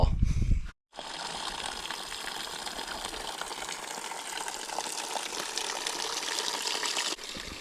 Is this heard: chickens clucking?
no